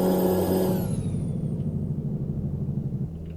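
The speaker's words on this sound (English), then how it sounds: "I need to change up this engine brake too, because it sounds like absolute poop." A truck's engine brake in American Truck Simulator, a deep, fairly quiet rhythmic rumble that follows a fading whine from the slowing engine.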